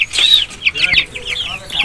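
Aseel chickens clucking in a breeder's farm coop, with repeated short bright calls and some louder squawks close by, over a light background of movement.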